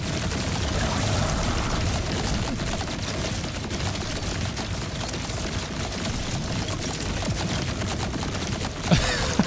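Gunfire in Borderlands 4 as several enemies shoot at a boss, a dense rattling barrage of rapid shots that continues without a break, capped by a sharper burst near the end.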